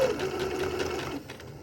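A sewing machine stitches a buttonhole freehand without a buttonholer attachment, its steady rapid motor hum and needle chatter running close and continuous before easing slightly near the end.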